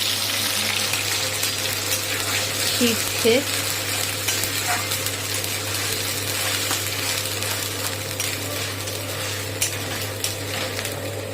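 Onion, ginger, garlic and green chilli frying in a pan for egg curry, a constant dense sizzle with splattering, steady and close under a continuous low hum; a faint voice briefly appears.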